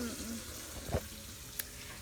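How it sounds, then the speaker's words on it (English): Chicken nuggets frying in oil, a faint continuous sizzle with a couple of brief louder pops and utensil sounds, quiet and close. "I'm still frying some in here."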